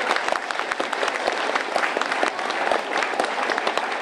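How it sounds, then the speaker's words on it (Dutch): A village audience at a community day gives loud, sustained applause, a dense, even clatter of many hands clapping that carries on without letup. "Een verschrikkelijk hard applaus voor en door Moergestel."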